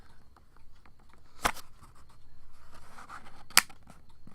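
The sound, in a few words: cardboard deck box clicking closed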